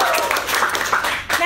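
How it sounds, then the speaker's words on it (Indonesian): A burst of hand clapping, brisk and close, mixed with lively voices throughout. "Tepuk tangan dong buat kita berdua."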